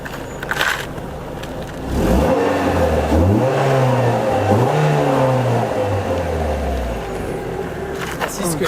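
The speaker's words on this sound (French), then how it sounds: "on entend beaucoup plus le moteur que l'échappement" A Renault Clio 3 RS with its 2-litre engine and a green air filter revs up hard, climbing and falling in several loud, close bursts. The induction roar is more prominent than the exhaust.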